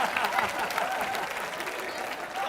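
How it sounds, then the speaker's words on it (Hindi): A studio audience at a televised Hindi comedy show claps enthusiastically, a bright, continuous patter of many hands holding at a fairly even level from start to finish. "आज जोरदार तालियां हो जाएं"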